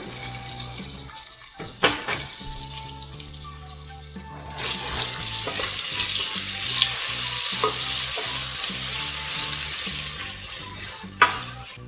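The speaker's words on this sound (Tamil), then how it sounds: "ஒன்ஸ் ஆயிலில் ஃப்ரை ஆனதும் நம்ம தாளிப்புக்கான பொருள்லாம் ஆட் பண்ணிடலாம்" Onion and green chili frying in hot oil for mint rice, with stirring clatter at first, then a loud, steady close sizzle that fills the rest.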